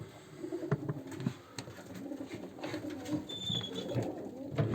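Domestic pigeons kept in a coop coo softly and repeatedly in a low, murmuring chorus, with faint rustling and a few higher chirps in the background.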